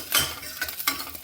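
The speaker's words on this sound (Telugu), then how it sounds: "నూనె వేడవగానే కొద్దిగా మెంతులు, జీలకర్ర, ఆవాలు, వెల్లుల్లిపాయలు" Fenugreek seeds, cumin, mustard seeds and garlic fry in hot oil as a tempering for a yam tamarind stew, giving soft sizzling with several sharp crackles and a stirring clatter in quick bursts.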